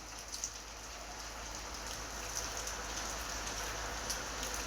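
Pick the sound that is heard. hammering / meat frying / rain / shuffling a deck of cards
rain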